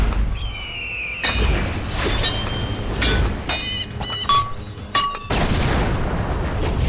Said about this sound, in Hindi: ये धमाका कैसे हुआ?